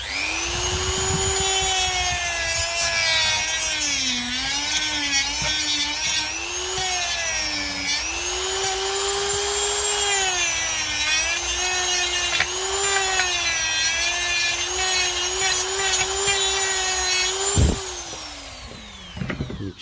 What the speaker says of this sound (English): Then I'm going to give it a little buff.